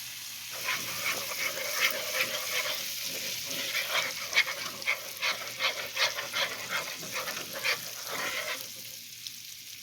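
Butter melts in a pan on low heat for honey butter, giving a steady crackling sizzle with small popping bursts throughout, close and moderately loud, with no talking over it.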